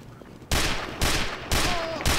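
A Spy's gun in the shooter game Team Fortress 2 fires four loud, evenly spaced shots about half a second apart, each with a sharp crack and short ringing tail.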